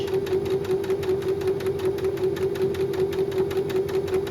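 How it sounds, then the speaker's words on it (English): Sewing machine stitching a rolled hem along the edge of a shirred-waist skirt, a steady fast mechanical whir with a constant hum, running continuously and close throughout. "Doing a rolled hem, which is my favourite stitch."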